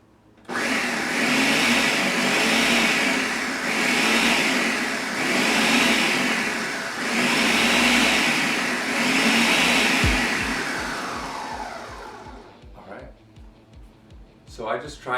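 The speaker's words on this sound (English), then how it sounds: "if you have a blender at home and it has the pulse setting, you're going to want to do that" A Ninja blender pulses raspberry chipotle sauce in loud bursts of motor whir, several surges in a row with brief dips between, winding down near the end before a few clicks and quiet handling sounds.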